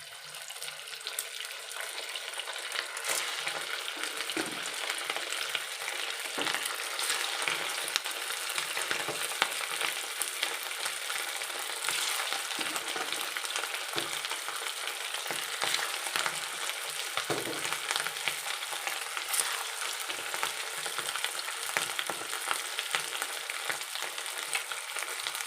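Pork meatballs fry steadily in hot oil in a pan, a dense, even crackle and sizzle running unbroken throughout with faint clinks and stirring now and then, no voices.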